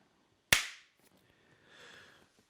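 A single sharp hand clap rings out close and loud, followed by a brief decay and faint rustling.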